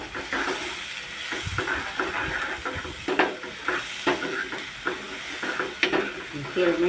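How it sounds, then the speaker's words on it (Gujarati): Tomato gravy and onion paste sautéing in hot oil while cooking guvar dhokli shaak, a steady close sizzle with repeated stirring scrapes and clinks of a spoon against the pan. "આ ટમેટાની ગ્રેવી તૈયાર કરેલી છે એ અને ડુંગળીની બેને મિક્સ કરીને તેલમાં એકદમ સાતળી લે।"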